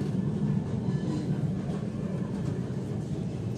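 A Christchurch city tour tram rolls along, giving a steady, loud, low rumble with faint rattling throughout and no voices.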